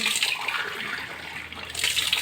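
Water poured from a glass into a cooking pot, a loud, continuous splashing gush close by that swells again near the end.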